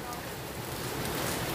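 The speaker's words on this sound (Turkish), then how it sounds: "Öyle ki dolu dolu yağıyor arkadaşlar." Heavy rain pours down over a flooded neighbourhood, a dense, constant hiss of falling water close by, steady and loud throughout the short stretch.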